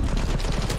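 Enemy gunfire in the video game Cyberpunk 2077, a brief dense burst of rapid shots filling the whole moment, loud and continuous with a steady low rumble beneath.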